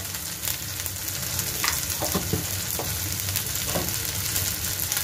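Spices frying with turmeric powder in a pan for a mustard-paste sea fish curry, a steady loud sizzle with scattered scraping stirs and clicks of a spoon against the pan, no talking.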